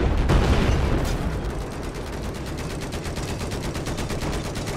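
Continuous rapid automatic gunfire in Battlefield 4 on Xbox One, an opening heavy burst settling into a steady, evenly spaced stream of loud, close shots with no talking.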